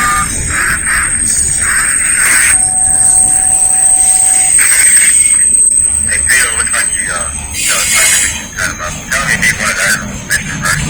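A southbound Norfolk Southern freight train rolls past in Lynchburg, Virginia, a loud steady rumble with high squeals and a thin electronic tone, some broken sounds near the end.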